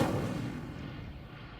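An Incendio fire spell cast in the Hogwarts Legacy video game, heard as a single booming, whooshing blast at the start that fades into a rumbling tail.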